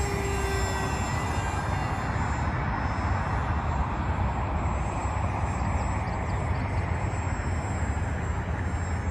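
A 1.1 m AeroScout S 2 RC trainer plane with a pusher propeller, flying on its maiden flight, gives a steady, continuous electric motor drone over broadband wind-like noise throughout, with no talk.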